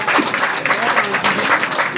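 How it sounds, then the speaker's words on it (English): Applause from a crowd at a Lagos estate sales event, dense continuous clapping, loud and close, filling the whole moment. "Let's clap for Agview."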